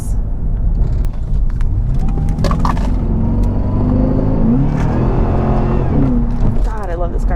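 A car accelerating on the road, a loud low engine drone rising in pitch as it picks up speed, with someone talking over the motor inside the cabin.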